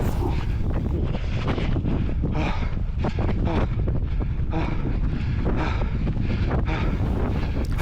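A strong headwind roars continuously into the microphone on an outdoor 5K parkrun course, a loud, unbroken rush with gusty surges throughout and no talking.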